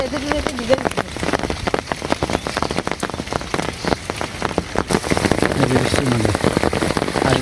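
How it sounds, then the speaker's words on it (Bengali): Heavy rain patters continuously on a hard surface nearby, dense irregular drops ticking and splashing on wet tree leaves, with a brief voice early on, during the rainy season in Bangladesh. "শব্দটা কি বৃষ্টির শব্দ"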